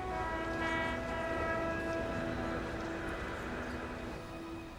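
A passenger or freight train rumbles steadily, and a sustained horn blast sounds over the rolling noise for several seconds.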